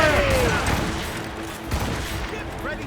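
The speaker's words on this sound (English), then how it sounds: "Cannon ready!" Ship cannons fire in a naval battle in Assassin's Creed Rogue: dense, crackling volleys and heavy impacts roll together, with shouted crew calls mixed into the din.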